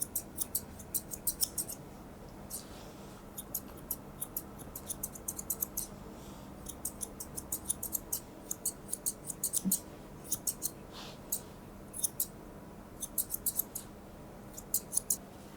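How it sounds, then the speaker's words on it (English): Quick, crisp snips of scissors trimming a poodle's coat come in short clustered bursts with brief pauses, close and fairly quiet, with no talking. "just using the tips of our scissors, just tidy everything up"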